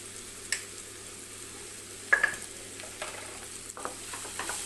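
Onions and potatoes sauté in a pan, a soft faint sizzle broken by a few scraping stirs and clinks of the spoon against the pan, with no voices.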